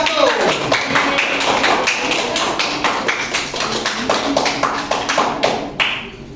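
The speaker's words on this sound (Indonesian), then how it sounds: "mari kita beri aplaus kepada kelompok 1" A room of classmates gives a group of students a round of applause, with steady, close clapping that lasts several seconds before tapering off.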